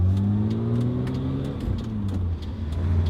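A BMW E30 driven hard, its engine revving and pulling up through the rpm range, a loud, close, steady drone that climbs in pitch with a brief dip partway.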